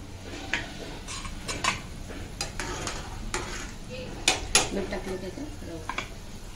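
Semolina is stirred a little at a time into boiling salted water for upma, with repeated close scraping and clinking of a spoon against the pot over a soft bubbling hiss, and a faint voice now and then in the background.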